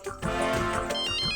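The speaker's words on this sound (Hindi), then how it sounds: "आया माया का फोन आया।" A mobile phone ringtone plays in an Indian comedy drama scene, a loud, bright electronic melody with layered tones that rings continuously without talk.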